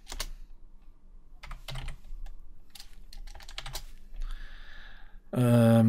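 Typing on a computer keyboard, quiet and close, with irregular clicks and short bursts of keystrokes, followed by a brief tone at the end.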